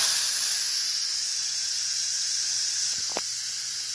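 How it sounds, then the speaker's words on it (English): Instant Pot releasing steam after cooking chili cheese mac, a steady loud hiss running unbroken, with a couple of faint clicks near the end. "when you hit that release in the steam"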